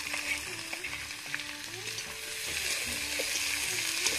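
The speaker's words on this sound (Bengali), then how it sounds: "পেঁয়াজটা এখন একটু ভেজে নেব।" Onion fries in a pan with dried red chillies and whole garlic cloves, a steady sizzle that grows slightly louder toward the end, heard under background music.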